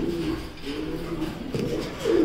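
Fancy pigeons coo in soft, repeated low throaty calls close by, continuing steadily with a faint background hum.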